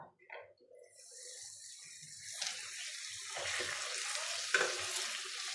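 Rice simmering in a pot over a gas flame, giving a steady watery bubbling and hiss that builds after a quiet start, with a few soft clinks and stirring sounds, close and moderately loud with no talk.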